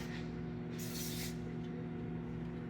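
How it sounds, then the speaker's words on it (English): Short burst of olive oil cooking spray hissing onto a heated pan, a single soft spritz over a steady electrical hum, close by. "We're gonna oil it with just a little bit of this olive oil spray stuff"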